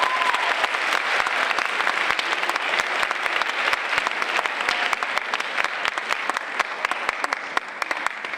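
Students at a senior assembly give themselves a round of applause, steady crowd clapping with sharp individual claps standing out, sustained and even throughout.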